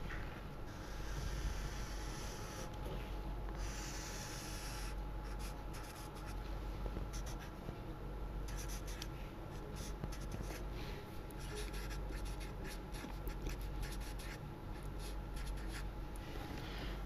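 A pen or marker scratches across a surface while a graph of a cube-root function is drawn by hand during a maths lecture, giving faint, intermittent strokes over a steady background hum, without talk.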